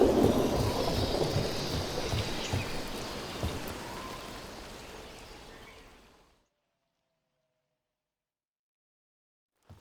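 Steady rain with low rolling thunder in a Dragon Age: The Veilguard game scene, a dense wash of rainfall that fades out into silence after about six seconds.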